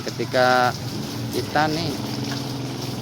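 A steam cleaner blasts a dirty motorcycle with a steady, close hiss that runs throughout, under someone talking.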